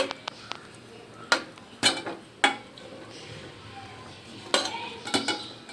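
Metal utensils scrape and clank against a pot in several sharp, irregular knocks as cooked nendran banana filling is transferred to a vessel, over a low background hiss.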